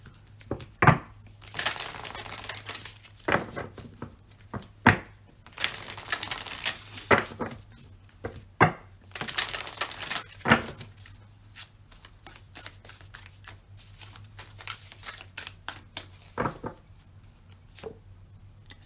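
Moonology oracle cards handled and shuffled up close, with a run of crisp riffling bursts, papery crinkles and sharp slaps in irregular clusters, and no talking.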